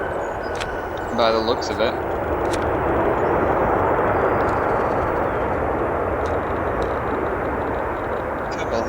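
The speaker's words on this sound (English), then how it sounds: "Pretty smooth touchdown there on 10 center" An airliner touches down on runway 10 Center at O'Hare, a steady broad roar of engine and rollout noise filling the clip, with someone speaking briefly near the start.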